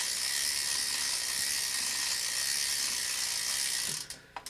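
A bicycle freewheel ticks rapidly and steadily as the crank is back pedaled while a pedal is threaded on with a pedal wrench, a close, continuous ratcheting buzz that breaks into a few separate clicks at the end.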